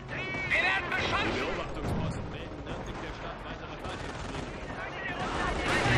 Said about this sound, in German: Stehen unter Beschuss durch feindliche Infanterie! Wir werden beschossen!